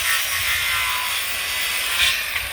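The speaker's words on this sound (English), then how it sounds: "he's going to use the saw. There he goes, cutting the wood." Hand saw cutting wood for a raised garden bed outdoors at a school garden, a continuous close rasping drone with faint rhythmic strokes.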